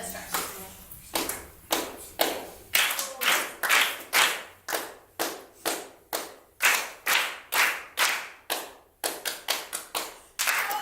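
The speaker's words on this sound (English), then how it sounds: "We're going to do clap again" A group claps hands in unison during a music engagement game, sharp rhythmic bursts repeating in quick regular patterns, some clustered into fast doubles, fairly close and loud with no talk over them.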